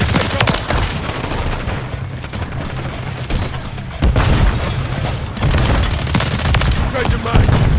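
Rapid gunfire and booming blasts from Call of Duty: Modern Warfare 3 War Mode, loud bursts of automatic fire with heavy thuds around four and five seconds, dense and close throughout.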